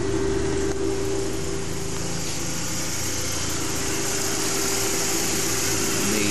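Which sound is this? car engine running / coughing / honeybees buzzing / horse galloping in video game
car engine running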